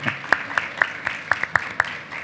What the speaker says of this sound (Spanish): otro aplauso para el empate